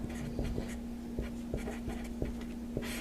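Pen or pencil writing by hand on paper while working a pre-algebra proportion problem, a steady scratching of strokes with regular short taps under a constant background hum, close and fairly quiet, no talking.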